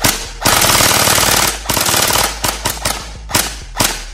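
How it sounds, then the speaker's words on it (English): A TacToys M4 MKIII gel blaster with metal gears fires loud, rapid full-auto bursts, a long rattling string followed by several short clipped bursts, close up and with no talking. "It's shooting 280 to 300 FPS straight away."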